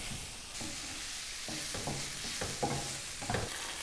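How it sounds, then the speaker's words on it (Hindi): Chicken and vegetables stir-fried with spices and oregano in a hot pan: a constant sizzle broken by several scraping stirs, close and fairly quiet, with no voices. "स्पाइसेस को हमने चिकन और वेजिटेबल्स के साथ अच्छी तरह से भून लेना है।"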